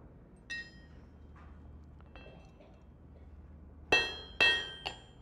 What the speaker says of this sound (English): I'll try and hammer it back this way to recenter the mass